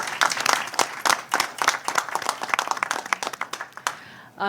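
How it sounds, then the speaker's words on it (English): A small group in a transit board committee meeting room gives a round of applause for employees, distinct individual claps close by in an uneven patter that thins out over a few seconds. "if I could ask for a round of applause for these employees"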